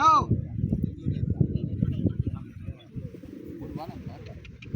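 Pigeons coo and flutter nearby in a rhythmic, rolling pattern, fairly loud at first and then softer, with people's voices mixed in.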